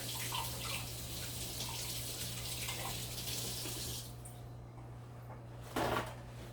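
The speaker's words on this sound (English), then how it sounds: "But first, I'm going to wash my hands. You'll want to use warm water, soap, and scrub about 20 seconds." Warm water runs steadily from a sink tap while hands are washed with soap, a constant hiss that drops off near the end before a short splash, with a low steady hum underneath.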